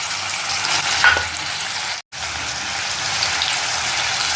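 Finely chopped tomato dropped into a hot pan of seasoned oil while cooking bitter gourd, giving a loud, steady close-up sizzle and frying hiss that runs throughout with a brief cut midway.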